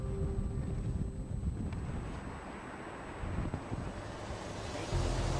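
Strong, steady wind roars across a tall building construction site where crews wait to lift turbine blades, a continuous loud rumbling gust noise with no voices.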